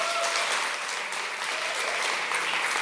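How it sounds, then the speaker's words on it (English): Audience applause at a world gastronomy summit in Catalonia, welcoming a speaker: a sustained, even wash of many hands clapping, moderately loud and steady throughout. "a big applause for her, please."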